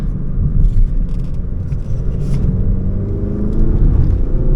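An Audi A1 40 TFSI accelerates and drives along, a loud, steady engine rumble with rising tones and road noise throughout, no talking.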